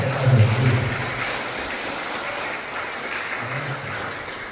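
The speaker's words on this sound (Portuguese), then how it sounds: "Dá um aplauso para Jesus, bem forte" A church congregation claps for Jesus in a short burst of applause that starts strong and quickly thins out.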